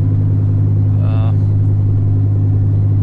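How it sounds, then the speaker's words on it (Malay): A BMW E39 car with a 3-litre engine idles as it warms up after sitting unused, a steady low hum close by with a brief faint sound over it. "sambil memanaskan enjin kereta saya yang dah lama tak gerak ni"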